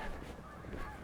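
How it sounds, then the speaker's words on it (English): Geese honk faintly and continuously in the distance over a frozen, snowy lagoon, their calls blending into a steady wash of wind and ambient noise. "No, geese are on parts of it."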